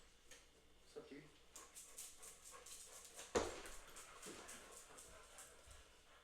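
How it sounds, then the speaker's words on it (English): A dog being let indoors pants and whimpers softly in short bursts, faint and mixed with room noise, with a sharper knock or thump partway through and a person talking nearby. "let me let the dog in before you start yapping"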